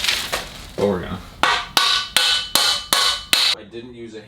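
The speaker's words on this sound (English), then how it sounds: "I do have to put these washers in, which is gonna kind of be tricky, I think. Probably shouldn't smack that with a hammer, but we're gonna." A hammer strikes washers into a Trek Ticket S mountain bike frame, giving about eight sharp metallic blows in a fairly steady rhythm, loud and close, after a brief voice at the start.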